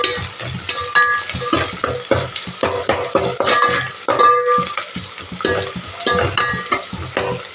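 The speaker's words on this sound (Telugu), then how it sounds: "దీంట్లో లైట్గా ఉల్లిగడ్డలు వేగడానికి సాల్ట్ యాడ్ చేసుకున్నాం" Onions fry with salt in a pan, with a loud, constant sizzle broken by repeated rhythmic scrapes and clinks of a spoon stirring them, heard close and without speech.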